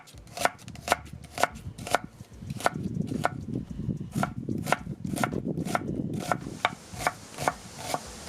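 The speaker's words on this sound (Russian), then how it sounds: "Нарезаю мелким кубиком и обжариваю на растительном масле." Two onions are diced into small cubes with a knife on a cutting board, a steady run of sharp, evenly spaced chops close to the microphone with no talking.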